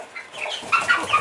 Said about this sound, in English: Got an aggressive chicken.